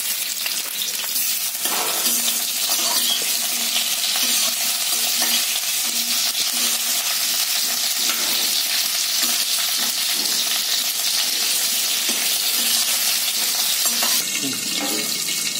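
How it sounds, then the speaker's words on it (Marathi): Ivy gourd (tondli) fries in oil in a pan, giving a dense, continuous loud sizzle with faint clinks and stirring noises throughout, close up and without speech. "हे तोंडली आहे ना, मी याच्यात जरा फ्राय करून घेते"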